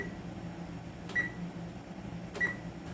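Oven control panel being set before baking lasagna gives two short, high electronic beeps about a second apart, fairly faint over a steady low kitchen hum.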